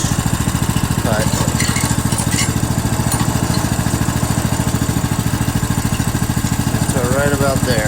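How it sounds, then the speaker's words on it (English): A sawmill steadily cuts a 14-inch log into lumber, its engine droning loud and continuous with a rapid, pulsing chatter throughout, while voices briefly break in near the middle and end. "So we are cutting a 14-inch log."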